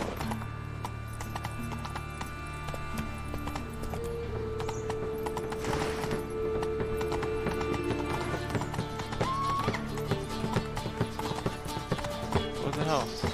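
Roach, Geralt's horse in The Witcher 3, gallops with steady rhythmic hoofbeats clip-clopping throughout, with game music playing and someone talking over it.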